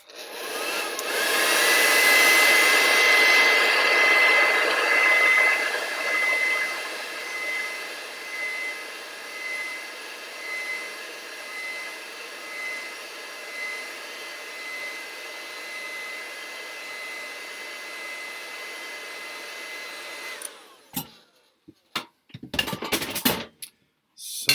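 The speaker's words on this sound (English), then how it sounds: "So I'm just going to use a hairdryer for just a second." A hair dryer runs steadily as a loud broadband whoosh that peaks at the start and holds for about twenty seconds. It then cuts off abruptly, leaving a few short knocks and handling noises.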